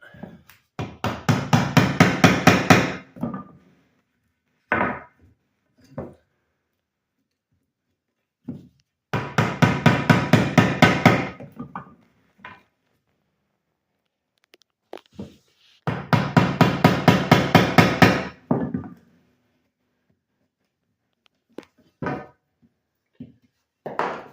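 Hammer driving a chisel into wood in an X pattern while building a gate from scratch, heard as three long bursts of rapid, loud, close strikes separated by pauses with scattered single knocks between them.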